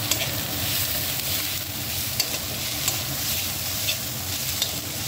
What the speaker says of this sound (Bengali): কালো জিরে ফোড়ন দিয়ে লাউয়ের খোসা ভাজা।